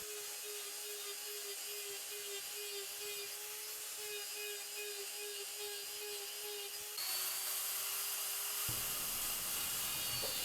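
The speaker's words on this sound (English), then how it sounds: "Using this conical carbide burr in this way, doing the texture in long ways around the piece" A rotary conical carbide burr grinds texture into a turned wooden piece, giving a steady high whine with a constant tone, and the pitch and texture shift abruptly partway through. No one speaks.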